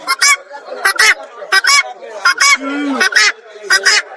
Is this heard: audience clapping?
no